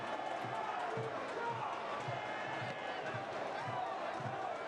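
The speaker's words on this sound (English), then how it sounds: "Crowd here coming to life a little bit." Soccer stadium crowd at a San Antonio FC versus Tulsa Roughnecks playoff match, a steady broad roar of fans building slightly, with faint rhythmic low thumps like drumming or clapping running underneath throughout.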